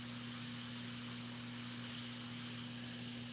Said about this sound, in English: I spray mostly on the edge of the stencil.